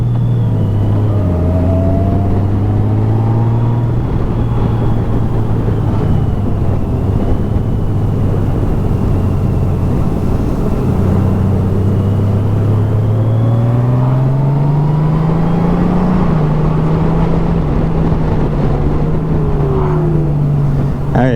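A Honda Goldwing 1800 DCT touring motorcycle downshifts under braking, its engine note dropping and rising in steady, loud, continuous droning sweeps with engine braking, close up and without voices.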